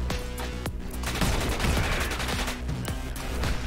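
Shotgun blasts in the Orbital Bullet video game, several sharp reports spaced irregularly over a steady din of game action, loud and close.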